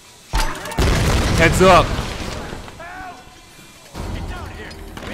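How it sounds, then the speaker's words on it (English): A loud, booming explosion erupts in Tomb Raider Definitive Edition, a sudden heavy blast that rumbles for over a second and then fades, while game characters shout nearby before and after. "That explosion was so extreme"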